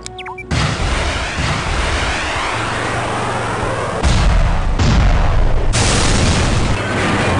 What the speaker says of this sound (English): Targeting systems locked. Plasma missiles away.